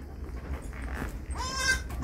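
A mother goat that has just given birth to two kids bleats in a wavering, nasal cry near the end, against a low farmyard background hum.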